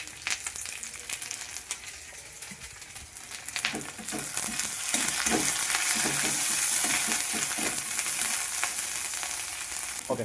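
Ginger-garlic paste with salt fries in a pan for chow mein, a steady sizzle that grows louder and brighter midway, broken by repeated scraping and stirring strokes, close up with no talking.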